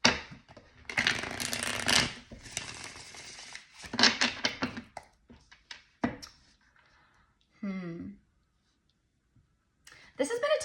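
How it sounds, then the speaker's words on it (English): Tarot cards shuffled by hand in quick riffling bursts with soft clicks and pauses, close to the microphone, with a brief voice heard near the end. "Let's give it one good shuffle like this."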